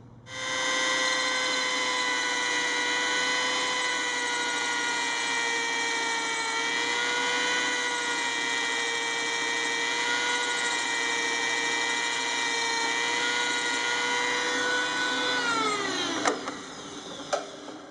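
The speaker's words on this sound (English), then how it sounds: "all we have left to do is grind the point on the brad" A steady high-pitched whine of a spinning grinder sharpening a brad point drill bit, continuous and fairly loud, ending as the motor spins down with a couple of clicks.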